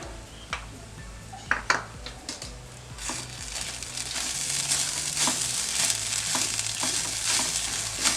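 Grated coconut frying in a pan with chilli and a quarter teaspoon of turmeric, a soft steady sizzle with scattered scraping stir clicks early on that swell into a louder, continuous frying hiss.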